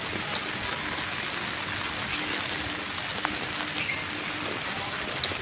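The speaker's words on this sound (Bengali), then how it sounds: "এখন জোরে বৃষ্টি শুরু হয়েছে" Heavy rain falling on a rooftop garden, a steady dense patter of drops on leaves and surfaces with a few sharper nearby taps, no one speaking.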